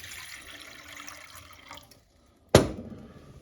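Freshly pumped water from a new drinking-water well pours and splashes, starting as a soft trickle, then a pause, then a sudden loud gush.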